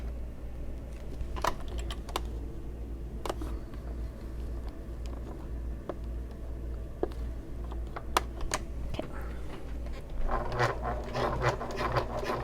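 Stitching about an eighth of an inch from the edge of a convertible bag, a sewing machine hums steadily at close range, with intermittent clicks and taps around it and a busier burst of clatter near the end.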